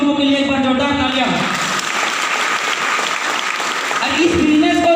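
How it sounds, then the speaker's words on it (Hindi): An audience at a Safe Shop business gathering applauds loudly for its gurus, a dense, steady wash of clapping that fills the middle, while an amplified voice speaks over the opening and closing seconds. "मैं चाहता हूँ सभी गुरुओं के लिए एक बार जोरदार तालियां"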